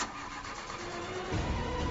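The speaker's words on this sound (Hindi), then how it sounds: "गाड़ी को क्या हो गया? ये स्टार्ट क्यों नहीं हो रही?" A car engine cranks and fails to catch, a steady mechanical grind that swells louder toward the end, with no one talking.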